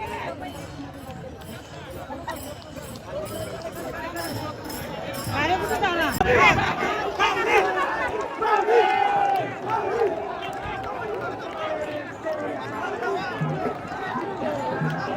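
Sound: crowd of pilgrims around the chariot

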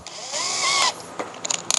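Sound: power drill countersinking a hole in wooden board

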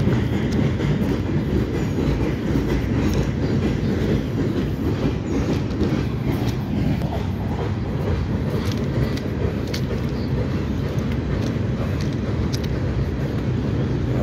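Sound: CSX freight train cars passing, clickety-clack

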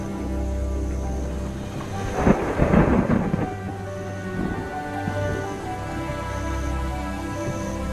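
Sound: thunderstorm with rain

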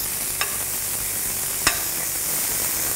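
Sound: soy chunks frying in butter

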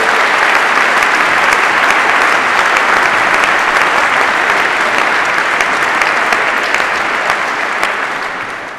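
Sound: applause for young people invited on stage

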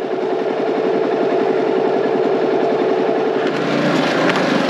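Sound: XMR 700 engine running

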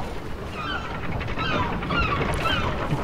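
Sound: seagulls calling in a video game (Kingdom Hearts III)

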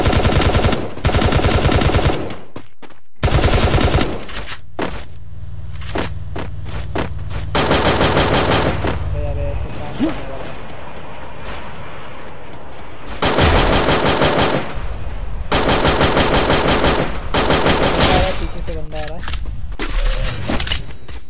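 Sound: gunfire in video game Free Fire

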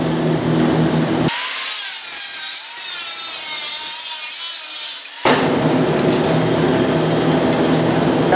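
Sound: machine cutting wood strips for puzzles

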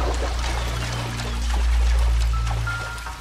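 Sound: water pouring from ruptured water line, video game L.A. Noire

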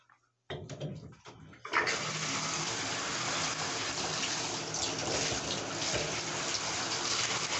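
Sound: water running from the bathtub tap

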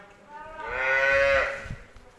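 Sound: cows mooing

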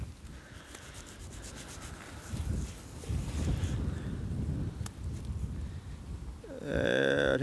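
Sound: wind blowing into the microphone outdoors

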